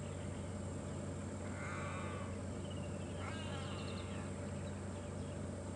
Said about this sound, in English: The 3 closest go-away birds that should have seen it by now are not the ones alarm calling at it.